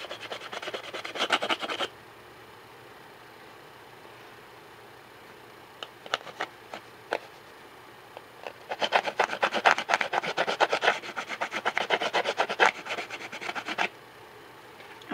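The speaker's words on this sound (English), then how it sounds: "I'm just using this like I guess it's called a tool file, I think." A tool file scrapes along the edge of a still-wet mixed media thank-you card in close, rasping bursts: a long stroke, then a few short scratches, then a sustained run of rapid back-and-forth filing.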